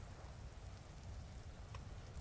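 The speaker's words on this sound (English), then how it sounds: "And it is raining over here." Steady rain in the video game Vintage Story, a constant soft wash of falling drops with a low rumbling bed, even and unbroken throughout with no talk.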